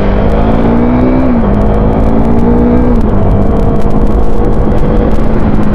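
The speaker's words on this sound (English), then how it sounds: "let me open the throttle a little bit" A KTM Duke 390 motorcycle fitted with an RD Powertronic unit revs under an opened throttle, its engine note climbing and then dipping between gear shifts, loud and close throughout, with no voices.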